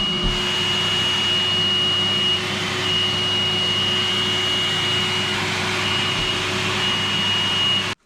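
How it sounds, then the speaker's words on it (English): A Hoover vacuum drawing air through a homemade hand-held sanding block gives a steady, loud whine with a constant high tone, running alone until it cuts off abruptly at the end. "Then you just connect your hoover and off you go."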